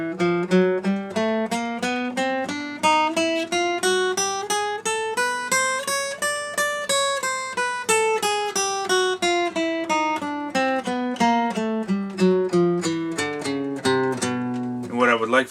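An acoustic guitar plays an extended major scale, single picked notes in an even rhythm climbing up and then back down, clear and close with no talking.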